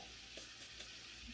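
Scampi fry in a pan, giving a faint, steady crackling sizzle with a few soft pops, heard alone at low level.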